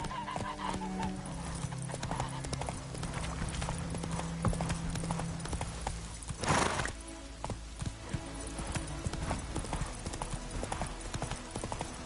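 Horse hooves clip-clop steadily throughout, the mount Roach trotting in The Witcher 3, with a brief whinny and busy game ambience layered around the rhythmic footfalls.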